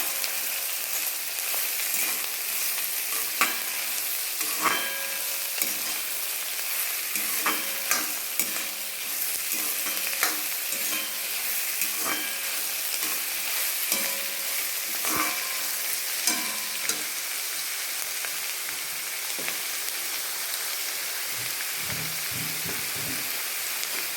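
Ingredients for a country chicken curry sauté in a hot pan with a constant bright sizzle, while a spoon stirs and scrapes the pan in irregular knocks and clinks throughout. Nobody speaks.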